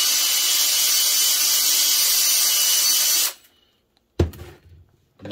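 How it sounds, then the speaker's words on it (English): A high-pitched drill spinning a cotton swab inside a carburetor whirs steadily for about three seconds, then stops abruptly, followed by a brief clatter and faint handling noise. "I chuck up a Q-tip in my drill, and then I just give that a hit of cleaner"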